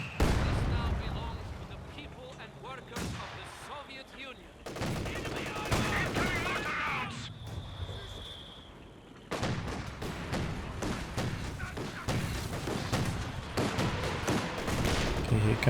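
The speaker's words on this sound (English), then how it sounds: "here comes the first COH2 barrage" An artillery barrage in the video game Company of Heroes 2, with dense rapid volleys of gunfire and heavy explosive thuds that roll on continuously and surge again partway through, loud and busy throughout.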